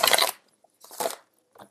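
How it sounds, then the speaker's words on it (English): Tarot cards are shuffled in three brief, crisp rustling bursts with short pauses between them, close and fairly quiet. "I'm getting the card shuffled out here"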